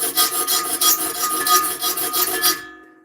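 Hand file rasping across saw blade teeth during sharpening, about a dozen rhythmic close strokes, each a bright scraping burst, before stopping abruptly.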